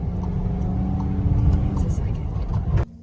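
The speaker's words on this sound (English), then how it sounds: "So I am driving this big ass van." A big manual van driven on the road, its engine and road rumble steady and loud throughout with faint voices underneath, cutting off abruptly near the end.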